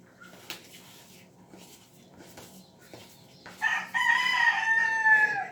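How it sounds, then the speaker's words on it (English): A rooster crows loudly near the end, a long harmonic call following quieter background rustling and a few soft knocks. "that's my morning wake up call. Trusty rooster."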